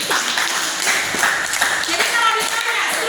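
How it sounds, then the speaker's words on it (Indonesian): A class of students clapping their hands together during an Indonesian school lesson, a dense, steady patter of many palms filling the whole moment at close range. "harus kasih tepuk tangan"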